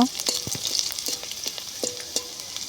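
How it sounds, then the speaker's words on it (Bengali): Chopped garlic and black cumin frying in hot oil, stirred in a pan: a continuous close sizzle with repeated sharp scraping strokes of a spatula, no talking. "রসুনগুলো দেওয়ার পরে আমি একটু ভালো করে নেড়ে মিশিয়ে নেব"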